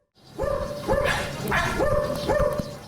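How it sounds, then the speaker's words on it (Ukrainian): A service detection dog barks several times in a quick series, close and loud, with short whimpery yips between the barks. "справжні собаки-детектори"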